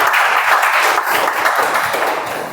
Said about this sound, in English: please, with a huge round of applause.